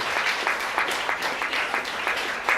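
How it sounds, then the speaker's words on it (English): An audience at a youth club launch event with the Prime Minister applauds, a sustained round of clapping from many hands, fairly close and steady with slight swells. "Let's give that group a special round of applause"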